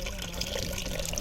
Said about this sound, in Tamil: இப்போ தண்ணி எவ்வளோ வேணுமோ தண்ணி ஊற்றும்